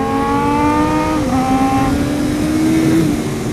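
Suzuki GSX-R SRAD and Kawasaki ZX-7R motorcycles on a sunny circuit in Spain give a loud, close, high-revving engine whine whose pitch dips briefly before climbing again under acceleration.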